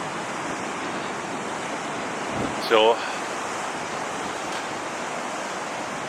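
Stormy sea waves break continuously on Hendon Beach, Sunderland, a steady roar of surf and wind with a brief louder crash midway, and a short spoken word near the start.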